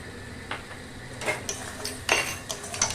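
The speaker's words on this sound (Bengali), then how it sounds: "করে মশলাটা কষতে থাক" Mutton curry masala being stirred and fried in a pan with tomato for a Bengali red curry, with a spoon giving scattered scrapes and light clinks against metal, moderately quiet and close, with no talk.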